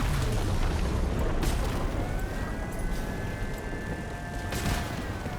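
Weapon explosions go off in the vehicle combat game Crossout, a dense rumbling barrage of blasts and booms with a thin whining tone drifting through, loud and continuous.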